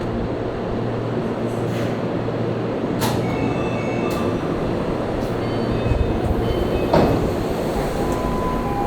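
A Japanese monorail train rolls along its single concrete track with a steady, continuous rumble and faint rhythmic clicks, heard from inside the car at a constant, moderately loud level.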